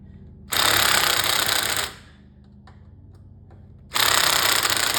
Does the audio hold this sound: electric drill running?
yes